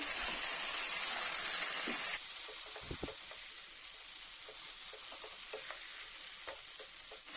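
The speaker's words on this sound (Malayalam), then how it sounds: "ഇനി നമ്മൾ ഇതിലേക്ക് അരച്ചു വെച്ചിരിക്കുന്ന തേങ്ങയുടെ അരപ്പ് ചേർത്ത് കൊടുക്കാം." Ground coconut paste is stirred into cooked vegetables for Kerala sadhya aviyal: a brief loud hiss settles into a quieter simmer with soft, scattered stirring scrapes, all without speech.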